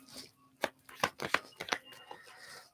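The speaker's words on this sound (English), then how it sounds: "Let me shuffle up these cards real good." Tarot cards being shuffled by hand, a quick series of soft riffling slaps and flicks, close and fairly quiet, with no talking.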